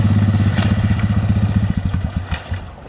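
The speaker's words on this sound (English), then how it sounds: "can't get his four-wheeler started" A four-wheeler ATV engine sputters to life and runs loud and close, a rapid uneven chugging idle with clattering pulses that slows and wavers toward the end.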